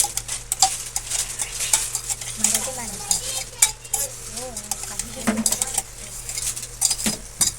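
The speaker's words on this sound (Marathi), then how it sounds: "हा जो आपण पेस्ट ग्राइंड केलेला ना टमाटर आणि कांदा लसूणचा, तो आपल्याला याच्यात टाकून द्यायचा" Ground tomato, onion and garlic paste stirred into a hot pan for a chicken curry, with steady close scraping and stirring of a spoon against metal over a soft continuous sizzle, plus occasional clinks of utensils.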